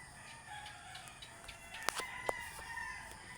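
A neighbour's pet rooster crows a couple of times at a distance in the early morning, with short sharp calls rising faintly over steady ambient background hiss.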